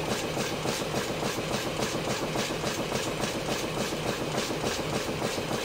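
A Stuart No1 model steam engine runs smoothly at an even speed, giving a close, steady rhythmic chuffing and clatter that repeats evenly throughout with no pauses.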